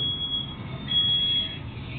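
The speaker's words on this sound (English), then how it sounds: "Smoke detector activated rather quickly." Smoke detector sounding during a fire test at the incipient stage of a fire, a steady high-pitched alarm tone holding continuously over a low rumbling background, fairly faint and distant.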